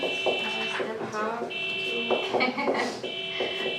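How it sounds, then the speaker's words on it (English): A car alarm sounds as a repeating electronic tone in regular pulses, heard indoors during a classroom lesson, with a teacher's voice talking over it. "Why is that car alarm going off?"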